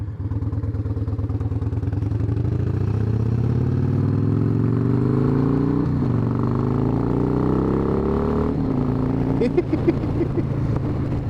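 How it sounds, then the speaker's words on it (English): A 1997 Harley-Davidson Wide Glide engine brakes with a steady, loud rumble whose pitch slides down as the bike slows, ending in a sharp exhaust backfire pop near the end. "Good old back pop."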